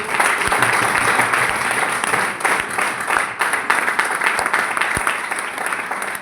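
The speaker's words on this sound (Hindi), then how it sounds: "हम चाहिए एक ताली बजा दीजिए आप सभी।" An audience at a party event bursts into sustained, dense applause that fills the whole six seconds at a steady, close, loud level, with no voices standing out.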